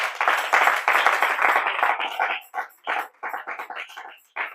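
Church congregation clapping to acclaim the Lord, dense rhythmic applause that later breaks into separate bursts of claps with short gaps between them.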